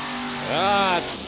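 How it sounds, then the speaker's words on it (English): A big Dodge truck racing at the NMRO mud drags in Bloomsburg, Pennsylvania lets out a short, swelling engine roar that rises in pitch over steady track noise, then fades. "Tim Brown's Pure Aggravation, that great big Dodge against 23T in the far lane"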